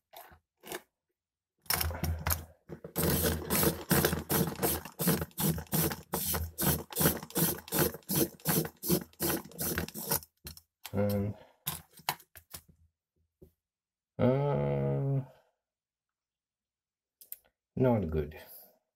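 A Deli manual pencil sharpener grinds a pencil in a fast run of close, crisp crunching clicks, followed by a few shorter bursts, with brief speech between them.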